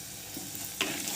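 Fish eggs fry with turmeric, ginger-garlic paste, garam masala, salt and curry leaves in a pan. The brief clip carries a soft steady sizzle and a short scrape of stirring near the end.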